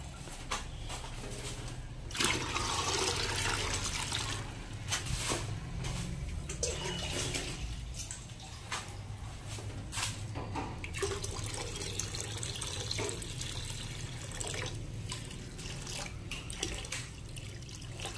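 Mineral water pouring steadily into a plastic can for making phenyl, a continuous close splashing rush that runs on without a break, with brief louder surges along the way.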